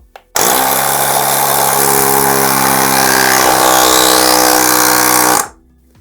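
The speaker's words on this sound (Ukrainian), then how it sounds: "послухаємо, як спрацьовує компресор і як буде спрацьовувати функція старт-стоп" The built-in air compressor of a Konner&Sohnen KS JSP-1300 jump starter runs loudly and close for about five seconds, a steady buzzing motor drone with a hissing airflow, starting abruptly and cutting off at the end.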